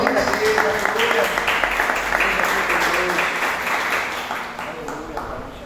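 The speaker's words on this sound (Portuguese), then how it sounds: "Vamos aplaudir a serva do Senhor nessa noite." A church congregation applauds a visiting woman at an evening service, steady dense clapping filling the room for several seconds, with faint voices mixed in beneath it.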